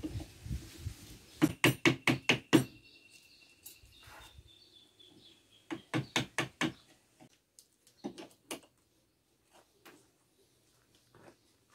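Sharp, close taps of a steel tool being driven with a hammer into wood while carving out a slot for a hidden tang on a Bowie knife handle, arriving in quick bursts of five or six blows separated by pauses, then sparser single knocks.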